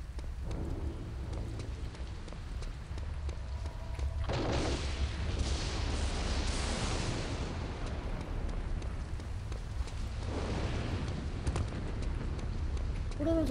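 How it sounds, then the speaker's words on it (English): Grenade explosions in the Return to Castle Wolfenstein video game, two loud broadband rumbling blasts several seconds apart over a steady background, with faint voices earlier. "Who's throwing in grenades?"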